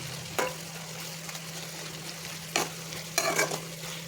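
A spoon scrapes through shrimp curry with ginger garlic paste in a pan, with a few distinct stirring strokes over a steady low sizzle and hum.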